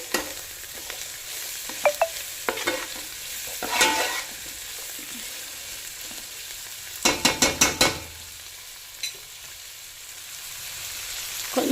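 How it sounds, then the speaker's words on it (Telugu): Tomatoes frying in a pan for keema gongura biryani, a steady low sizzle broken by a few sharp bursts of spoon scraping and stirring, close and with no voices. "కొంచెం ఒక్క 5 మినిట్స్ కుక్ అవనివ్వాలి టమాటాలు."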